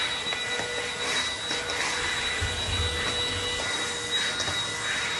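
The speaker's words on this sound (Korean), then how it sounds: "그래서 돌돌이도 하고 청소기도 돌리고" A vacuum cleaner runs steadily on the floor of a hanok guesthouse in Gyeongju, giving a constant close whine and airy roar at an even level throughout.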